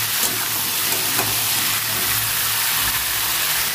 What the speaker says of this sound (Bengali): এটা এবার নেড়ে করে ভেজে নেবো।